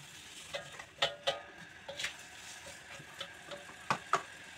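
Napa cabbage stir-fried with vermicelli and dried shrimp and scallop is stirred in a pan, faint scraping and clicking taps at an uneven pace over a soft sizzle, no voices.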